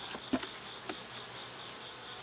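Honeybees at a beehive fitted with a solar-powered vented lid and exhaust fan, giving a faint steady hum with a few brief nearby buzzes of individual bees passing close.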